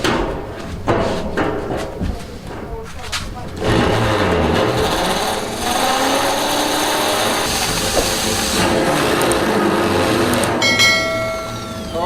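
A power drill bores a hole in a metal part for a homemade gasoline-to-gas generator setup, the whirring tool running loud and steady for several seconds with workshop clatter, while a voice speaks briefly in the background.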